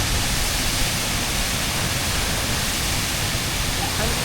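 A waterfall along a bog walk gives a steady, loud broadband rush of falling water that holds constant for the whole stretch, with no voices.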